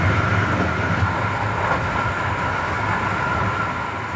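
Old Swiss train wagons roll noisily along the rails, a steady, close rumble and rattle that continues without pause and carries no speech.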